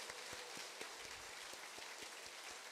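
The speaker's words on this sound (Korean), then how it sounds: "다시 한번 뜨거운 감사의 박수." Audience in a church hall applauding after a pianist's performance, a dense, even patter of many hands clapping at moderate distance, steady throughout.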